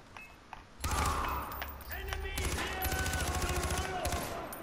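Rapid gunfire in a video game begins abruptly after a quiet start, then continues as steady, close automatic bursts of fairly even rhythm, with voices faintly in the background.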